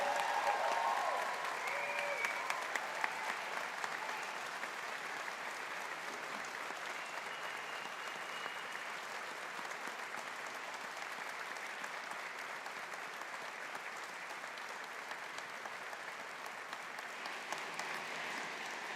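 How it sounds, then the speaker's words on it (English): An audience at a university Faculty of Science graduation ceremony applauds the graduates, with sustained, even clapping from a large hall crowd throughout. "Let's give our graduates a big round of applause."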